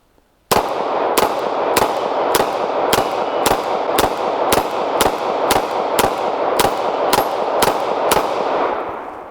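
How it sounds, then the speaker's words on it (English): Semi-automatic pistol fired at a shooting range, fourteen loud, sharp shots in an even, quick rhythm over about eight seconds, each ringing briefly before the next, close by with no talking. "go ahead and shoot the pistol range here with it"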